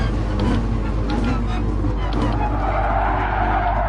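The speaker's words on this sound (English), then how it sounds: "Listen to that tyre squealing." Race-car tyres squeal in Gran Turismo Sport during an FIA Gran Turismo Championship race, a loud continuous skid over a constant engine drone, with faint talk underneath.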